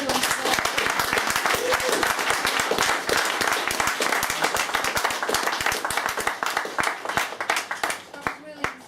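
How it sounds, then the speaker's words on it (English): An audience applauds a speaker's talk with dense, sustained clapping from many hands that fades gradually toward the end, with some voices mixed in. "Can we just give Janine a round of applause for an excellent work?"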